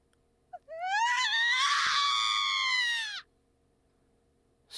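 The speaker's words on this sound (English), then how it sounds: "Suddenly, I heard a scream in the distance." A distant scream from the video game Raging Loop rises and holds as a long, wavering wail for close to three seconds. It cuts off abruptly into quiet.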